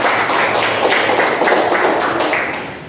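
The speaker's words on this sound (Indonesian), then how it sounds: "tepuk tangan buat Aska yang sudah mengucapkan" A classroom of students claps for a classmate, brisk and loud applause from many hands close by, holding steady before tapering slightly at the end.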